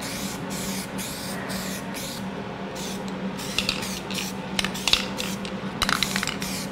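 A spray gun lays a thick third coat onto a Firebird bumper, hissing steadily and close at hand in short repeated passes. Light clicks and tinny taps come through near the end.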